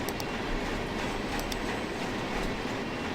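A simulated freight train running in the Run8 train simulator near Yermo, a steady dense rumble of wheels on rail with faint periodic clicks, continuous and loud with no voices.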